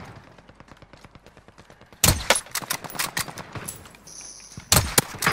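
Gunfire in Call of Duty Warzone: a steady stream of light rapid shots gives way to loud, close, sharp bursts of automatic fire with heavy impacts, ending in a final loud volley.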